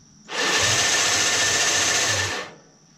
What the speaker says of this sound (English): if we push this down, now that we've got the toggle switch on, we should hear the motor kick over